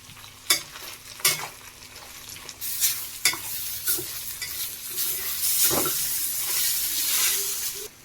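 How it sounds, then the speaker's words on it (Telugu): Broad bean curry frying and sizzling in a pan, stirred with a few scraping spoon strokes early on, then a steady close hiss of cooking without any talk. "కర్రీ కలిపేద్దాం."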